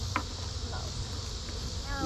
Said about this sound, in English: I'm shaking bees out of here.